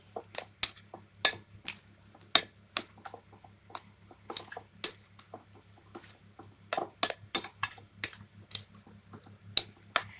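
A whisk or spoon clinks and taps against a bowl in quick, irregular strokes, stirring an egg into a potato and carrot waffle batter with broth; the sounds are close and crisp over a low steady hum, with no talking.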